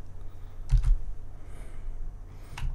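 A few quick keystrokes on a computer keyboard, a short cluster of clicks followed by a pause and another brief tap, soft and close.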